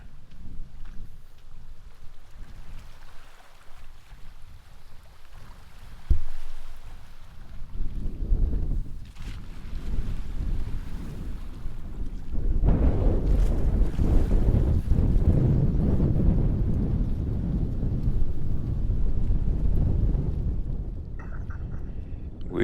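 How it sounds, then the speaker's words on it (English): Wind blowing at a Lake Michigan pier by the Menominee North Pier Light, a loud, steady rush and roar buffeting the microphone, building into strong gusts through the middle and holding without any talk. "We got some wind."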